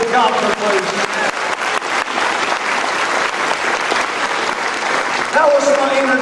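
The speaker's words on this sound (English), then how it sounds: "Come on, clap your hands and give God the praise." Church congregation at a First Assembly of God service in Honolulu breaks into loud, sustained clapping, with voices and shouts of praise rising over the applause throughout.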